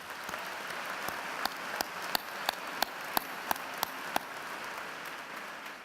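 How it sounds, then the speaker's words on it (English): Graduates at a Fox School of Business commencement clap together, a medium-distance patter of applause that builds into a series of sharp, evenly spaced claps before fading out. "Please give yourself a round of applause."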